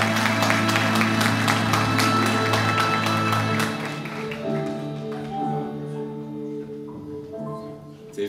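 An audience applauds at an awards ceremony as producer Bülent Makar is called to the stage to collect a Kanal D award for the fashion programme Son Moda. Dense clapping runs beneath loud music and gradually thins out.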